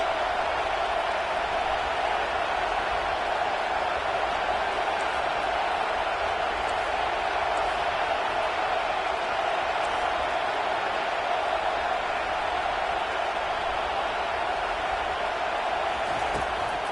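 Stadium crowd at a football game, a steady distant roar of many voices filling the background at moderate level, continuous without clear peaks.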